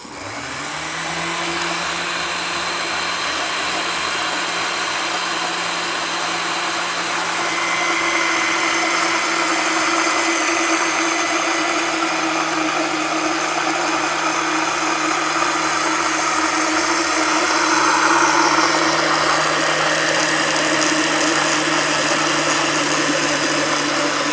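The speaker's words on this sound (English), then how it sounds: "You could hear that blender change tone as we were going." A blender mixing a sauce runs steadily and loudly the whole time, its motor hum shifting slightly in pitch partway through as the contents mix.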